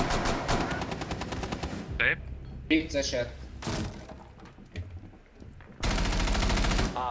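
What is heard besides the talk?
gunfire in the video game Rainbow Six Siege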